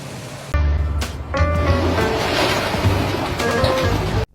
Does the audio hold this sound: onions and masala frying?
no